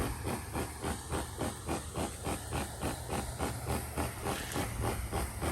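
A pump sprays the first flood coat of sealer onto a paver sidewalk, a steady loud hiss pulsing in a quick regular rhythm of about three beats per second, close and continuous.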